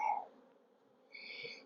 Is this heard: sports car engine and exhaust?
no